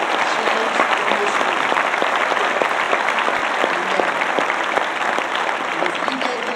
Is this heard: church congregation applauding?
yes